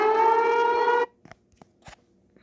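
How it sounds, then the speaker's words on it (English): A phone siren app plays a loud, steady wailing tone with layered harmonics for about a second. It cuts off abruptly, and a few faint clicks and small knocks follow in near silence. "I got these sirens here. Siren apps here."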